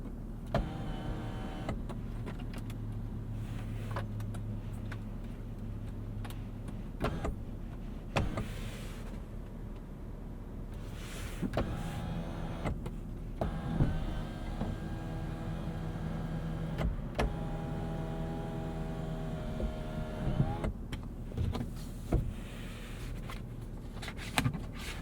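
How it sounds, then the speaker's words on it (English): Sunroof motor of a 2021 Toyota Camry XSE Hybrid running inside the cabin, a low electric whir in several long stretches with faint clicks and thumps, quiet and close, no talking. "Sunroof."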